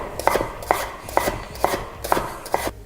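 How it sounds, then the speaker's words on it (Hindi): A knife chops capsicum on a board in a hotel kitchen, about six even, sharp cuts at a steady rhythm, close and clear, with no one talking. "शिमला मिर्च काटने का तरीका"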